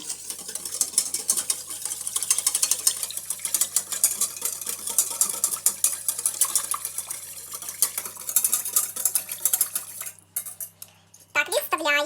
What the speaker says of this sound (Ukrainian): І розмішуємо це все.